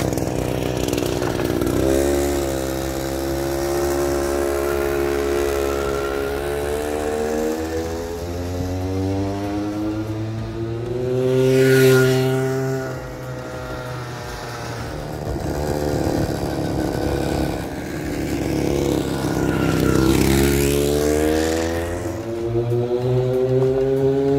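Modified Frankenscooter, a scooter with a small weed-whacker-style engine, buzzes loudly and steadily throughout a test drive, its high-pitched two-stroke whine rising and falling in pitch as it speeds up and slows down.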